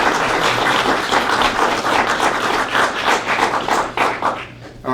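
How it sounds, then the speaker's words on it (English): An outdoor crowd at a highway dedication ceremony claps steadily for about five seconds, a close, continuous patter of many hands with a few louder individual claps. "Give yourselves a round of applause,"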